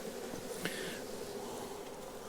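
Honeybees buzz around a hive, more active near its bottom, giving a soft continuous droning hum from many insects at a fairly faint, even level.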